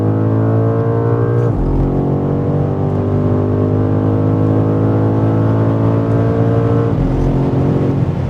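A 2025 BMW M5 Touring pulls hard on the Autobahn, its engine droning loudly and steadily rising in pitch, with two quick gear shifts breaking the climb.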